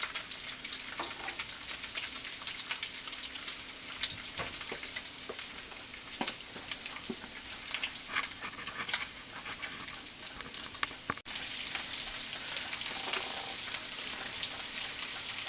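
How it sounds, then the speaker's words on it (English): Potatoes and onions sizzle in a frying pan that held bacon. A steady, close hiss crackles and pops continuously, with occasional louder spatters and a brief stir near the end. "And it's just sizzling up real good."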